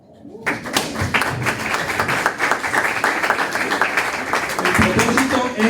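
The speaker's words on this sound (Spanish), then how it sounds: "Aplauso." Audience applause at a Spanish-language talk on Lutheran identity, a dense crowd of clapping that starts abruptly and stays steady and close for several seconds.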